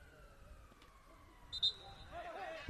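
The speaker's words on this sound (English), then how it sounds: "Yet another ambulance races past us by Starbucks." An ambulance siren wails past outside a Starbucks near a blind football match, its tone sliding downward as it goes by, fairly faint against background noise before a brief louder swell.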